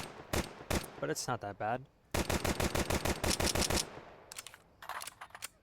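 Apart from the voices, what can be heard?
Glock pistol shooting in Counter-Strike 2 video game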